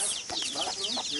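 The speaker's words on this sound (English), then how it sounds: "Oh, there's little baby chickens." Baby chicks chirp and peep in quick, high bursts at a temple ground in Chiang Rai, Thailand, close and lively, with people talking alongside.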